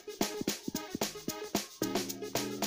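Amapiano snare pattern programmed in Caustic 3, playing a steady run of sharp, bright snare hits with short tonal tails, layered and evenly spaced, loud and alone without voices.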